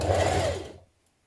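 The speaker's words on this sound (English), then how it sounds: "Now stitch your skirt to your bodice, evening up your gathers as you go" A sewing machine stitches a gathered skirt to a dress bodice in one short, close, fast-running mechanical burst that stops abruptly, leaving near silence.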